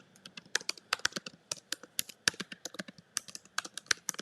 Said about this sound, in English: I'm typing the link out right now